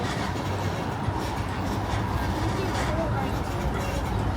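A steady low rumble of a Disneyland Resort tram rolling along, with constant rattling and faint clatter throughout, fairly loud and close.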